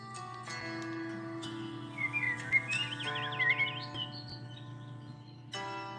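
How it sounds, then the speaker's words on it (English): Birdsong recording playing at low volume over a sustained background tone, with chirps and a warbling whistled phrase in the middle, followed by a fresh burst of tweets near the end. "I want my birds louder."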